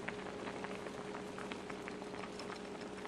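Black bean soup with carrots simmering in a pot, a steady soft bubbling with scattered small pops and a faint constant hum, even and unbroken throughout.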